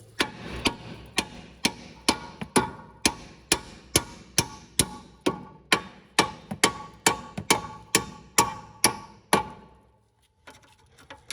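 Hammer blows knocking out the two spline bolts on a Chevrolet Malibu front strut, about twenty sharp metallic strikes in a steady rhythm, loud and close, then a brief quiet pause at the end.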